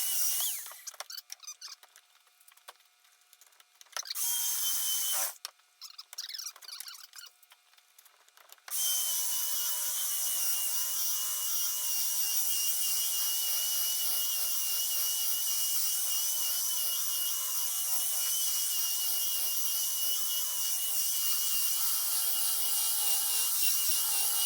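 Power sander working coarse 50 and 80 grit sandpaper across a live edge wood board, a steady loud continuous whir that runs unbroken for most of the stretch after a few stop-start bursts at the beginning.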